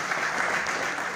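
A live audience breaks into loud applause for a tabla accompanist at a stage program, a brief, dense burst of clapping from many hands.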